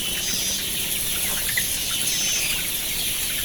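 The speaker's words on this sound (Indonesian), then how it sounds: "ayam nyekrek." Rooster with a snoring, rattling breath, a respiratory illness, heard amid loud steady coop noise with brief raspy sounds, fairly close and without speech.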